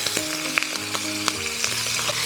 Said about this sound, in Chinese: 先放入鱼头，简单的煎一下